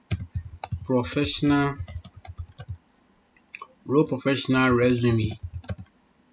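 Computer keyboard typing, with scattered light key clicks mostly in the pauses between a person's steady talking, close and fairly soft.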